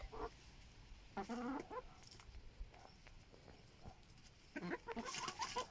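Chickens on a farm cluck in short bursts, close and fairly quiet, with scattered rustles and knocks between calls and a louder flurry of clucking near the end.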